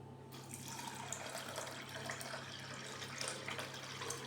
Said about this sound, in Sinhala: දැන් මේ හොඳට සෝදාගත්ත කඩල පරිප්පු ටික පෙඟෙන්න අපි වතුර දාගමු.